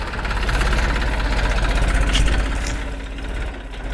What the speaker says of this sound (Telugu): చూస్తున్నారు కదా ట్రాక్టర్ అయితే మన పొలం దగ్గరకు వచ్చి కాయలు వేసుకొని వెళ్తుంది